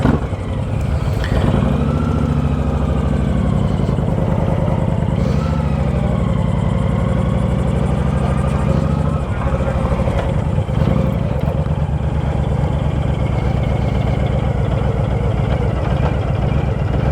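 A motorcycle cruising along the road from Palm Coast to Flagler Beach in Florida, its engine droning steadily and loudly throughout with rumbling low tones and wind noise, no talk.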